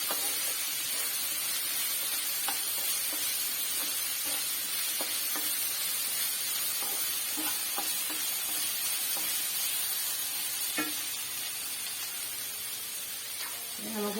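Chopped ginger sautés in hot oil in a pan while an egg roast is prepared, giving a constant close sizzle broken by light clicks and scrapes of stirring.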